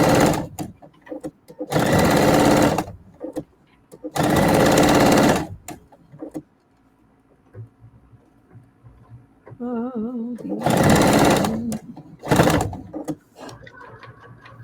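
An electric sewing machine stitching a seam runs in several loud, steady bursts of a few seconds each, separated by pauses filled with soft handling noises and light clicks of fabric being pivoted.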